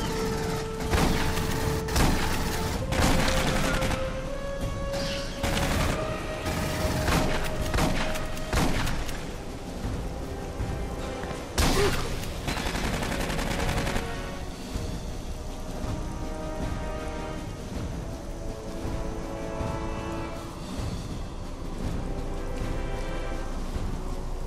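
Shotgun blasts ring out in Aliens: Colonial Marines, a series of loud sharp bangs in the first half, irregularly spaced and partly clustered, over a steady bed of game noise and tonal background music.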